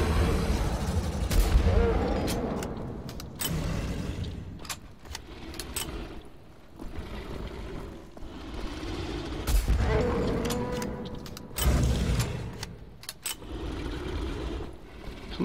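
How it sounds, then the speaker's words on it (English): Gunfire in the video game Wolfenstein: The Old Blood comes as irregular sharp bursts and cracks over a busy game soundscape, loud and close, with no speech over it. "Sometimes I gotta shoot you in the face, dude."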